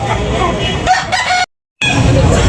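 A rooster crows close and loud at a gamefowl market in Tabunok, Talisay, Cebu, with clucking and crowd noise around it, cut by a brief dropout of silence midway.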